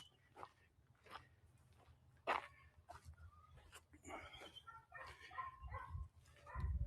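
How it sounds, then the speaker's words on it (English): Several dogs bark and yip now and then in a park near the Careel Bay mangroves. The barks are faint and distant, spread across the stretch with quiet pauses, and soft voices murmur in the background. "you can probably hear the dogs now"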